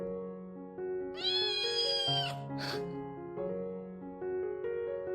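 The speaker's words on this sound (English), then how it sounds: "But then Petunia arrived, and this tiny kitten proved that everything Grace thought she knew about cats was dead wrong." A tiny kitten meows repeatedly and close by, giving several drawn-out, tonal cries one after another with no talk.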